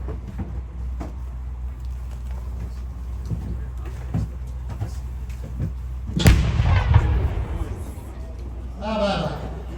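A Garrison Artillery gun fires once at a Tiger Day show before a grandstand crowd, a loud sharp blast with a rumbling tail over steady low background noise, followed by a brief burst of distant crowd noise.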